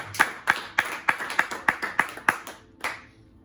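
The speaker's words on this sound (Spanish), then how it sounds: "Y denle palmas al Señor el que esté de acuerdo." A church congregation claps for the Lord in a steady, evenly spaced rhythm, about nine sharp claps in a row followed by a short pause and one last clap, with no talking.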